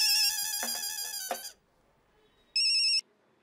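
A phone rings in two bursts of bright electronic tones, a long ring followed after a pause by a shorter one, heard through a slightly thin speaker.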